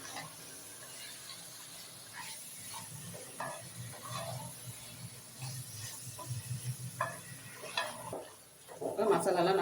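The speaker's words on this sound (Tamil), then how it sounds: "இதெல்லாம் சேர்த்து இந்த எண்ணெயிலே நல்லா வதக்கிடுங்க அந்த மசாலாவை." Chilli powder masala being sautéed in oil for mutton kuzhambu, a faint sizzle with intermittent scraping and stirring clinks from a pan, growing louder near the end.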